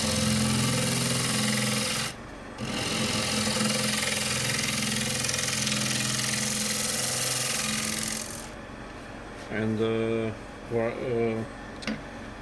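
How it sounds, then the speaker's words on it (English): A wood lathe hollows end grain with a 16mm spindle gouge, giving a steady, close, broadband scraping whir that runs for about eight seconds before the cut stops and the spinning quiets. "let's hollow the inside. This is 16mm spindle gouge."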